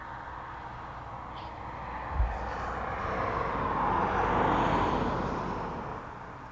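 A plane taxis after landing at East Midlands Airport at night, a faint, distant engine drone that swells gently and then fades, with a brief soft thump early on.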